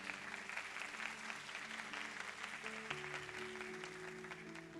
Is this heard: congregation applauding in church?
yes